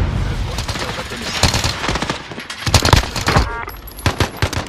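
Call of Duty Warzone gunfire crackles in rapid bursts and scattered single shots throughout, loud and close, with brief game alert tones and voices talking over it.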